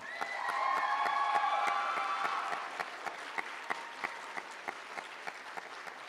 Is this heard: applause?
yes